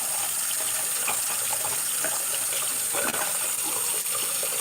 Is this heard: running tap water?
yes